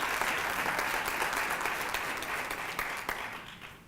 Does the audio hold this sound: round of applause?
yes